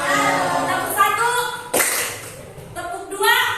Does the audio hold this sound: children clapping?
yes